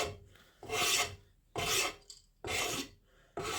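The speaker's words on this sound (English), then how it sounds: "It really doesn't take that long to scrape this varnish off either, especially with a good sharp knife." A sharp knife scrapes varnish off a wooden splitting maul handle in four long, close rasping strokes with short pauses between them.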